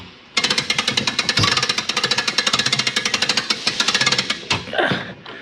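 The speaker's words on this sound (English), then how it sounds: "Start cranking to the right to bring it up." A hand crank raising a Coachman Clipper 108ST pop-up camper gives a loud, rapid, evenly spaced ratcheting clatter that runs for several seconds before stopping abruptly, followed by a brief rustle.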